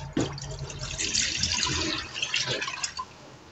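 A litre of water is poured into a container to be heated for homemade laundry detergent, a steady close splashing and trickling that lasts a few seconds and then tapers off.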